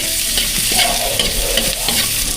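Onion, ginger and garlic sautéing in hot oil in a large pan, a loud close sizzle with stirring scrapes and clatter of the utensil against the pan.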